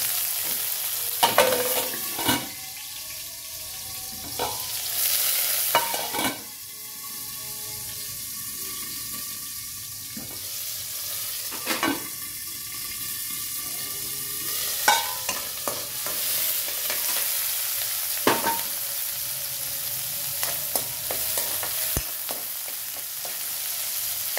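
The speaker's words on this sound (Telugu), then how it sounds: "ఇక ఉల్లిగడ్డ వేస్తున్నా." Onion dropped into hot oil for a ridge gourd and masoor dal curry, sizzling steadily while a spoon scrapes and stirs the pan in repeated bursts, close up with no voices.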